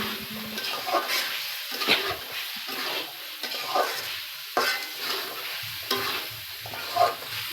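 A spoon scrapes and stirs eggs through masala for egg korma in a pan, several rhythmic strokes clattering over a soft, continuous sizzle.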